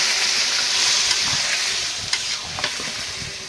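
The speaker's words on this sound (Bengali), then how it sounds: "এখন পানি দিয়ে দিয়ে একদম ভাজা ভাজা করে ফেলছি মশলা লাউর সাথে।" Spices fried with bottle gourd in a pan with a splash of water: a loud, continuous hissing sizzle, close by, broken by a few sharper stirring scrapes near the end and no talking.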